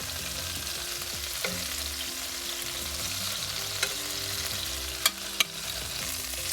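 Fried shrimp are scooped out of hot oil while the pan keeps up a constant sizzle. A few sharp scraping clicks from the utensil cut through near the end.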